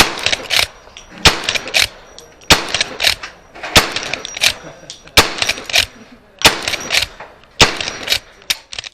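A Winchester 1894 lever-action rifle fires Schofield rounds at a cowboy action range, with seven sharp, loud shots at roughly one-second intervals, each followed by the clack of the lever cycling.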